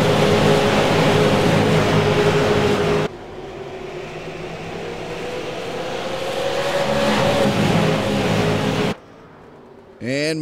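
Race car engines at Irwindale Speedway in the iRacing sim, a loud continuous roar with rising and falling revs, broken by abrupt cuts near the end, under commentary.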